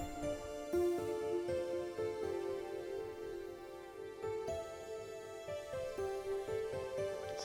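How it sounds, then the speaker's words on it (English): Two similar synth lead sounds from a Roland JV-1080 play together as a bright melodic line over a softly pulsing backing, held notes stepping in pitch, heard quietly and steadily with no talking. "This is the two lead sounds together."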